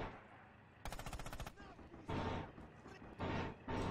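Gunfire in the multiplayer World War II shooter Red Orchestra 2: a sharp rapid burst of automatic fire, then several heavy booming shots with echoing tails, with faint voices between them.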